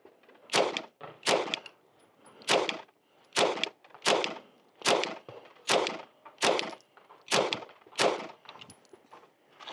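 Ten sharp, loud Sig Sauer P226 MK25 pistol shots fired at a target seven yards away, evenly spaced about a second apart, each crack followed by a short ringing decay.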